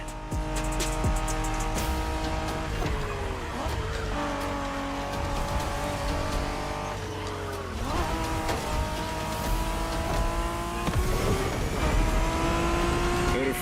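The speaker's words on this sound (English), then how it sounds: "We're going for some proper Japanese street racing." Video game street cars racing hard in a Japanese street-racing setting, engines revving and shifting through gears with repeated tire squeals and skids, loud and continuous throughout with music underneath.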